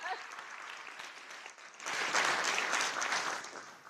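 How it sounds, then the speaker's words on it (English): Audience applause at a mayor's farewell address, a steady clapping that swells louder partway through and keeps going to the end. "clap for that"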